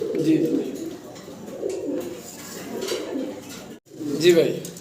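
Fancy Mukhi-breed pigeons coo close by in repeated low, rolling phrases, while someone talks over them.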